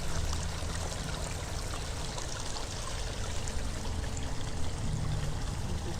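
Steady rushing water pours off the big cat enclosure pools at a wildlife sanctuary, a continuous broadband stream and trickle that holds at one level, with faint talk underneath.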